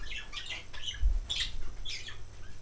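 Pet budgies squawking and chirping indoors in short, faint bursts close by, with a brief low thump partway through.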